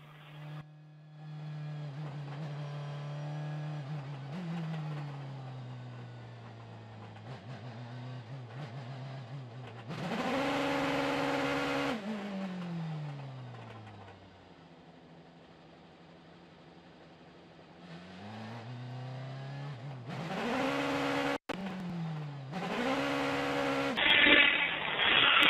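A Mercedes-AMG C63 DTM race car engine at the Lausitzring is heard from onboard on the starting grid, idling with a low drone, then revving sharply in several hard bursts between quieter spells, climbing and falling in pitch.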